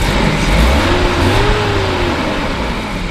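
A 1991 BMW 318is E30 coupe's M42 four-cylinder engine revs up once from idle, pitch climbing then falling back, loud and close with no talking.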